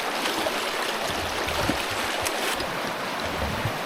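Creek water flows steadily between banks thick with regrowth, a close, continuous rushing and gurgling with small splashes throughout and no voices.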